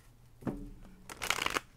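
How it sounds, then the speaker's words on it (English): A deck of tarot cards being shuffled close by, a brief riffle followed by a longer, crisp flurry of cards slapping together. "One more shuffle."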